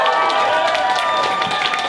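Audience at a New Zealand comedy school graduation show applauding and cheering a comedian: dense, steady clapping with whoops from a close crowd, sustained throughout.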